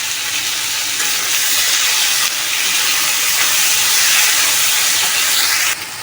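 Thankuni leaves fry in a pan with ginger, garlic and spices, giving a loud, steady sizzle and hiss that runs throughout with little change and no talking.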